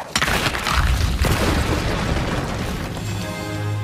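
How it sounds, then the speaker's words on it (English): A cartoon explosion from My Little Pony hits as a loud sudden boom, then a rumbling, crackling tail that fades over a few seconds, with a low hum underneath at the end. "Control explosion like this requires so much math that even for Pinky, it's a stretch"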